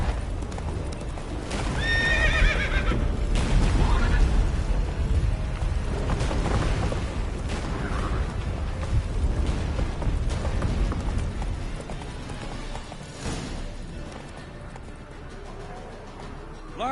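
Roach, a horse in a PS5 game, gallops with steady hoof clip-clops and neighs loudly near the start, the hoofbeats continuing under wind and game ambience throughout.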